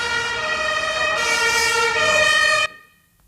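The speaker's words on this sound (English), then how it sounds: "an extremely loud ambulance goes by" An extremely loud ambulance siren sweeps past on Kossuth Lajos utca, a busy city street, its wailing tones close and steady before cutting off abruptly near the end, leaving quiet traffic rumble.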